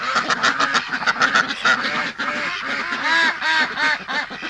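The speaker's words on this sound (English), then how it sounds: "I know, ducks." Ducks at a lake quacking loudly and repeatedly up close, overlapping honking calls in a busy, continuous chorus.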